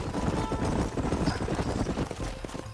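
Horses clip-clopping across the ground in the western video game Red Dead Redemption, a quick irregular run of hoofbeats at moderate distance with a low background rumble.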